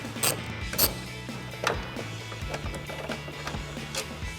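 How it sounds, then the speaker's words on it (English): A 3/8 ratchet with a T30 Torx bit clicks close by while removing tail light bolts on a 2014-2021 Toyota Tundra, giving several quick ratcheting bursts with small metallic knocks between them and no talking. "So now I'm going to take my T30 Torx and my 3/8 ratchet, get up in here, remove these two bolts."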